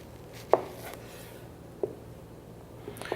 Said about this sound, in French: on va voir émincer un oignon